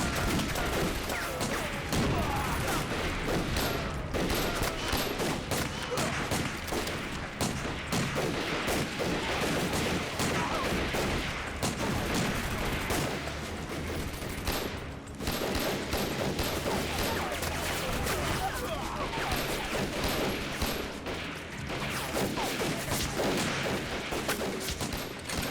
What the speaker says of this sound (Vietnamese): Đại đội 1, bắn cho tôi khai hỏa.